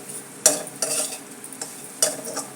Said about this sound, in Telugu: సాల్ట్ వేసాక మొత్తం అంతా ఒకసారి కలిపేసుకున్నాం అనుకోండి